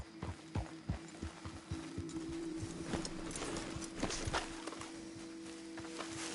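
Horses walking in Red Dead Redemption 2, hooves clip-clopping in a steady uneven rhythm close by over a constant game ambience with a low hum, no talk.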